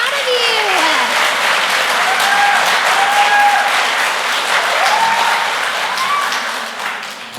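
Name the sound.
audience applause for kindergarten students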